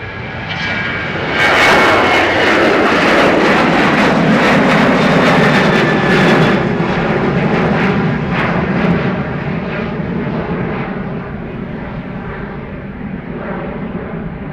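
A Ryanair jet airliner takes off from runway 28 right at Dublin Airport, its engines building to a loud, steady roar that swells early and then eases slowly as it climbs away.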